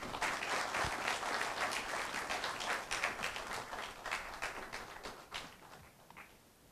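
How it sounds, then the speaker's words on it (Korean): A hall audience bursts into sustained, dense applause at a university presidential inauguration, the clapping loud and steady before gradually thinning out toward the end. "큰 박수로 모시겠습니다."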